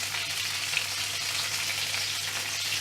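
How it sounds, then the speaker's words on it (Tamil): Tomato sautés in a little oil in a pan, a soft, even sizzle that holds steady throughout at low level, with no stirring accents or voices. "இன்னொரு பாத்திரத்தில் தக்காளி ரம்பையை சிறிதளவு எண்ணெய் விட்டு அதனையும் வதக்கி எடுத்துக்கொண்டு"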